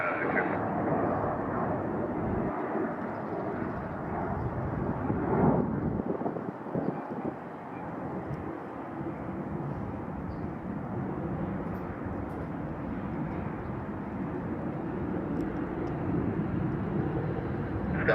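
An airliner departing runway 16 left at Salt Lake City International Airport, its engine roar a steady, broad rumble heard from a distance, with wind buffeting the microphone and people talking over it.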